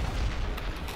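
Gunfire from the Shoot Many Robots video game sounds as a brief, dense burst of noisy shots with no talk over it.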